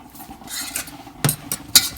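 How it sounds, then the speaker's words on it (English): Spoon scraping and stirring salted cauliflower rice in a pan, soft rubbing followed by a few sharp metallic clinks near the end, close and alone. "And then you stir it all up."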